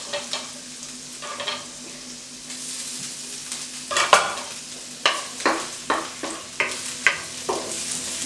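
Garlic and ginger frying in a pot for Schezwan green beans with tofu, a close sizzle punctuated by a regular series of spatula scrapes and stirs.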